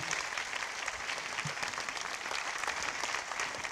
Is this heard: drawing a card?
no